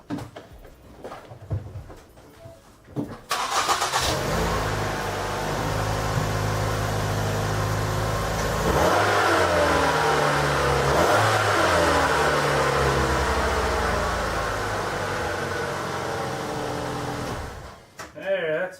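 A Mercury Mariner or Ford Escape with a new muffler starts after some handling noise, then idles and revs in a steady hum with rising and falling pitch before shutting off near the end.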